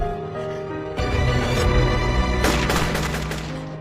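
Gunfire from soldiers' weapons in a film scene: loud, dense bursts of shots fire in rapid succession, swelling into a heavier volley partway through, with no talking.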